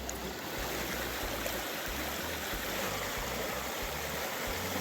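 A flooded creek running high after heavy rain, beside a gravel bar, gives a steady, loud, broadband rushing roar that continues unbroken throughout, with a deep low rumble underneath and no talking.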